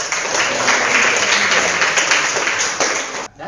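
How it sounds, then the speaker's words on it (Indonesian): A classroom gives a group a round of applause, loud and dense clapping that holds steady, then cuts off abruptly near the end. "Sekali lagi kita beri tepuk tangan"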